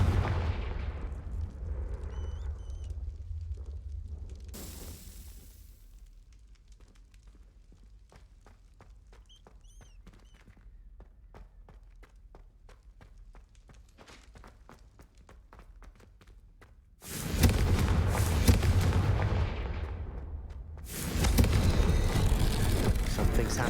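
Confringo blasting-curse explosions in the video game Hogwarts Legacy: heavy, booming blasts open the scene, followed by a long quiet stretch of faint footsteps and ambience, then two further loud, rumbling bursts.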